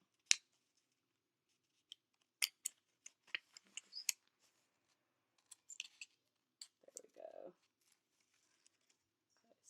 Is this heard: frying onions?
no